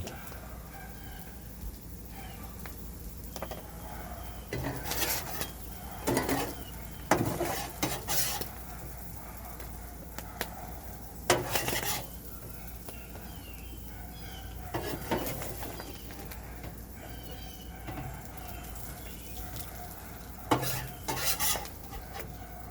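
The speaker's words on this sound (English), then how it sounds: "Getting these potatoes off the griddle without dumping them on the ground" Potatoes sizzle quietly on a griddle at a campsite while a metal spatula scrapes and clatters against the surface in scattered bursts, close and clear over a low steady background.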